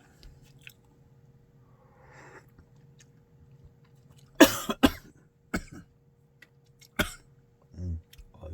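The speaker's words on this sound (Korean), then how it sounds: "기침이 나왔습니다." Several sharp coughs burst out in a cluster, followed by a couple more spaced coughs, close and loud over a quiet low hum.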